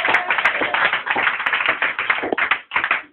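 A church congregation claps loudly and fast in dense, continuous applause for about three seconds, with a few sharp taps standing out and a brief dip in the clapping near the end.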